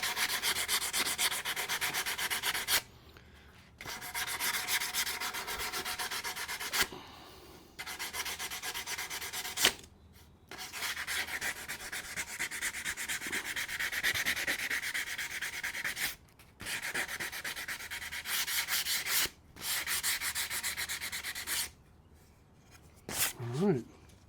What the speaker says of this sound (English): hit it with some sandpaper